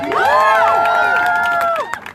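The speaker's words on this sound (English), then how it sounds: "Give you guys a round of applause." Rally crowd at a nurses' union event letting out a loud burst of cheering and whoops over scattered applause, shouts rising and falling together close by for about two seconds before dropping away.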